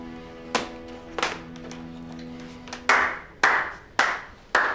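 One person claps hands slowly and deliberately, about seven separate sharp claps at uneven intervals, the later ones louder and crisper, close to the listener with no talk over them.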